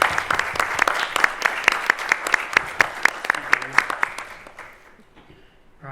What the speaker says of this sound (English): can we all give George a round of applause?